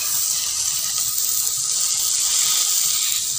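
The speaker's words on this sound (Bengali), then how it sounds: "এই মশলাটার ভেতরে এবার আমি জল মিশিয়ে দেব" Water poured from a tap into a spice paste for a Bengali fish and aubergine curry, a steady broadband rush of running water lasting throughout without pause.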